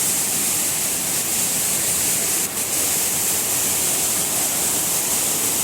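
Muddy floodwater surges with force at Pradhanpat, Deogarh district, after heavy rain, producing a constant, loud, close rushing roar that barely varies and carries no speech.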